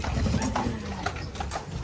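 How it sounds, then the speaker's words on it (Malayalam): A horse-drawn carriage fitted with bells rolls through the streets of Colmar, France, its hooves clip-clopping in a quick, even rhythm close by. "നമ്മളങ്ങനെ ബെല്ലൊക്കെ ഇട്ടിട്ടാ നമ്മൾ കോൾമാർ ദീദികളിൽ കൂടി കുതിരവണ്ടിയിൽ സഞ്ചരിച്ചു കൊണ്ടിരിക്കുകയാണ്"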